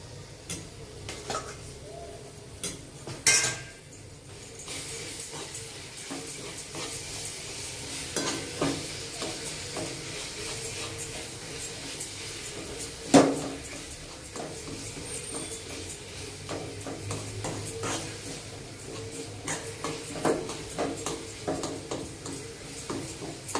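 Jaggery, grated coconut and banana being stirred in a pan for a sweet modak filling, a continuous soft scraping and sticky shuffling with occasional louder knocks of the spoon against the pan, close and without talk.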